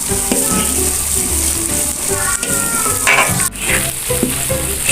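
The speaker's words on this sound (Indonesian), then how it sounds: "Cabenya kita goreng sampai kering" Chili peppers fry in hot oil in a pan for Minang-style balado fish, with loud continuous sizzling and crackling close up and a spatula scraping and stirring at irregular moments.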